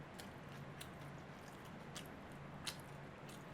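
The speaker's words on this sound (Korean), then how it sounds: "근데 왜 이렇게 쩝쩝대?" Faint, close-up chewing with soft wet mouth clicks and lip smacks, a few sharper bites standing out against a quiet, steady room hiss, with no talking.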